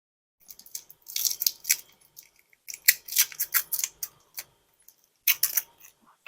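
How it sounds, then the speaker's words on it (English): Plastic wrapping rustles and crinkles in bursts as it is pulled off a new Louis Vuitton Loop Hobo GM handbag, close up with short pauses between handfuls. "let me take this plastic off it so I can just show you guys a little bit what it is"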